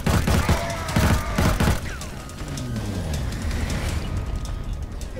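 Gunfire in the video game Killzone: Shadow Fall, several sharp bursts of shots in quick succession early on, followed by rumbling, whooshing game effects.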